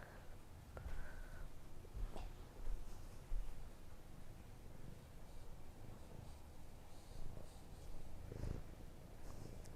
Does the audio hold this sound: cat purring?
yes